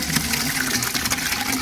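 Fish curry gravy poured slowly into a pan of fried red pomfret, a continuous close splashing, gushing liquid sound at steady volume.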